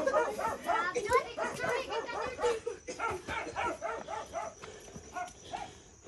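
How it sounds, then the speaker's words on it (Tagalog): A dog barks repeatedly in quick, uneven bursts, fairly close, with yips mixed in and people talking over and between the barks. "Ayun ang aso."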